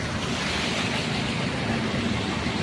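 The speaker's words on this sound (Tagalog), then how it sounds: "So may ilog din pala dito, umapaw na." Overflowing river floodwater during Typhoon Carina near SM Bacoor, a steady loud rushing wash of water with wind buffeting the microphone, continuous and close throughout.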